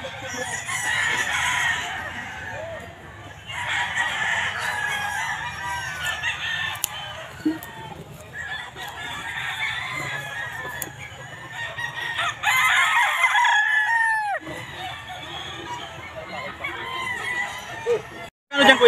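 Several roosters crow repeatedly and chickens cluck at a busy outdoor pet market in San Jose del Monte, Bulacan, loud and close, with overlapping calls and brief pauses and faint voices in the background.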